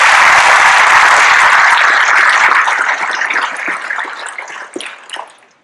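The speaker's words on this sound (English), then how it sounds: "Can we give them a round of applause, please?" A crowd applauds at a 2022 YSC Academy graduation ceremony: dense, loud clapping that holds steady for about three seconds, then thins into scattered, fading claps before stopping.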